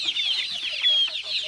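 Local village hens and chicks make quick, high, overlapping cheeps and clucks at close range in a short burst, with no voices.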